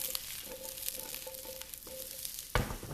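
Sliced mushrooms frying in a pan for a chicken stir fry, a steady soft sizzle with occasional stirring scrapes and one sharp clatter near the end; no talking.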